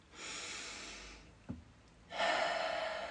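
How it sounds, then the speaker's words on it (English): During a calm tapping meditation, a single deep breath is drawn in, then a short pause and a soft, audible exhale, all quiet and close. "And big deep breath in."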